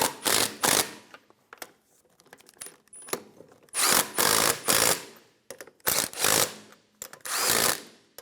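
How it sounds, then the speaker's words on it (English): Ratchet snugging down the lug nuts on an Infiniti G35 rear wheel, heard as several loud bursts of rapid clicking separated by pauses, close and with no talking. "Snug down the lug nuts."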